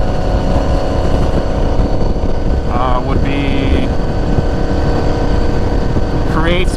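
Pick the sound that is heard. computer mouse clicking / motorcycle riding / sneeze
motorcycle riding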